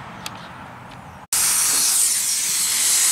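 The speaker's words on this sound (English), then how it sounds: "So go ahead and spray these ahead of time." A loud, steady aerosol spray hisses continuously for nearly two seconds onto rusty bolts of a 1978-1979 Ford F-150 grille, after a quiet stretch with faint background noise.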